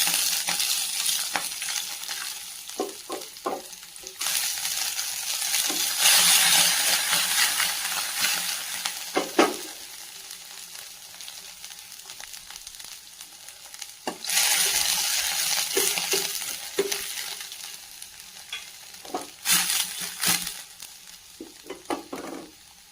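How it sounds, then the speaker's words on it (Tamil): Green and red chilies tempering in hot oil in a kadai for a mushroom pepper fry, sizzling steadily while a spoon stirs and scrapes the pan in bursts. "இப்போ இன்னொரு கடாயில் 2 பச்சை மிளகாய், 2 வரமிளகாய் தாளித்து அதுக்கு ஆட் பண்ணிக்கலாம்."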